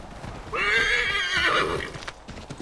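A horse in the video game Assassin's Creed 3 lets out a loud, close whinny lasting about a second, with hoofbeats around it.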